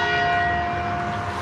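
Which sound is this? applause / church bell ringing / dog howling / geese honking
church bell ringing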